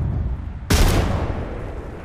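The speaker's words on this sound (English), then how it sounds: "Grenade out." In a first-person shooter match, a video game grenade goes off as a single sudden loud blast after a quiet moment, then a rumbling tail fades slowly. No one speaks.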